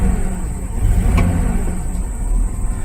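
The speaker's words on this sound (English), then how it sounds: "we'll put it in reverse. Give it lots of gas." A 2000 Ford Expedition's 4.6-liter engine revs hard in reverse gear. The loud, close, steady engine roar holds with slight surges in pitch, and no voices are heard.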